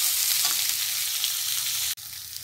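Creamy paneer gravy bubbles and sizzles in a pan, a loud, even frying hiss that drops out briefly near the end before resuming.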